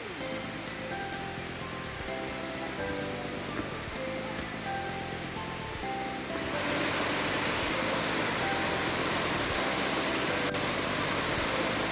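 Steady broadband rush of Tad Kuang Si waterfall near Luang Prabang, continuous and loud, swelling noticeably louder about halfway through as the cascade comes closer.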